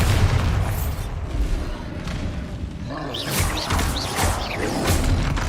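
A Bombarda spell detonating during a troll fight in the video game Hogwarts Legacy: booming blasts and crashing impacts mixed with whooshing spell effects, loud and continuous, with no voices over them.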